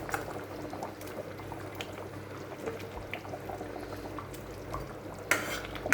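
Fish pieces bubbling in a thick, reduced curry paste in a pan at home, a steady close simmer throughout with a brief clink of cookware near the end.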